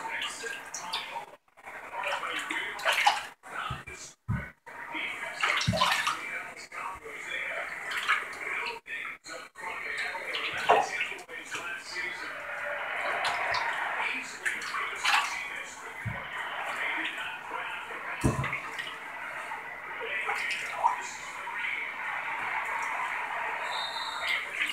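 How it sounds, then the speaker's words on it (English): Water splashes and pours in a bathtub as a child's hair is wetted, with scattered drips and sloshes up close, under an adult's speech. "Let's get your hair wet so you can wash your hair out."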